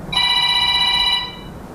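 A telephone rings in a single loud, clear electronic burst lasting about a second, then fades into room noise with no talk.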